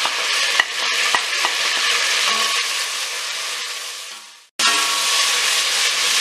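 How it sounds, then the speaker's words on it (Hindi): A spice paste sizzles and fries steadily in a hot pan, with a couple of stirring clacks and a brief dropout before the loud sizzling resumes. "अब जितनी देर में ये पानी खुश्क होगा उतनी देर हम मसाला भून लेंगे"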